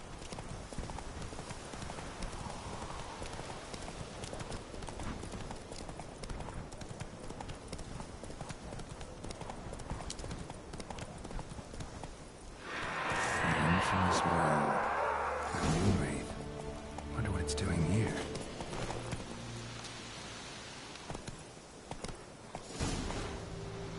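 Hooves of the horse Roach in The Witcher 3 clopping steadily, then breaking into a louder, faster gallop midway before easing off, with a faint voice in the background.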